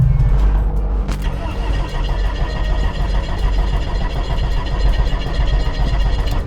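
Engine of a restored Yugo prototype car running roughly with a loud, steady rattle and low rumble, a faint voice briefly heard over the continuous noise.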